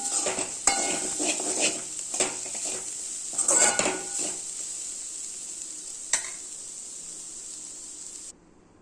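Vegetable poriyal of broad beans with grated coconut and cumin sizzles in a pan as a spatula stirs it, giving a steady frying hiss with close scraping strokes that fade to quiet near the end.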